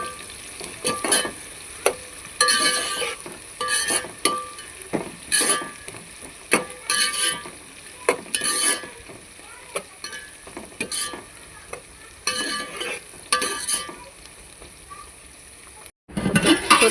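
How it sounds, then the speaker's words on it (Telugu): Onions and green chillies fry in a pan for a chicken curry, a continuous close sizzle broken by repeated scraping stirs of a spatula at an uneven rhythm. "ఆనియన్స్, పచ్చిమిర్చి అన్నీ ఇలా దోరగా వేయించుకున్న తర్వాత"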